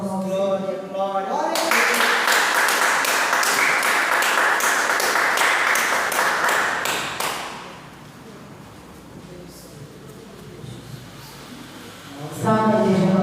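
Church congregation applauding during a healing and deliverance service, a dense burst of clapping lasting several seconds that then fades out, followed by quieter talk.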